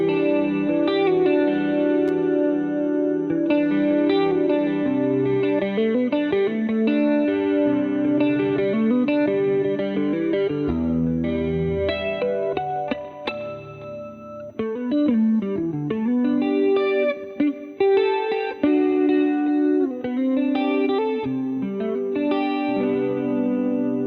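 Electric guitar plays melodic notes and chords alone in a clean tone through NUX effects pedals, with a shimmering chorus and echo effect on the tone.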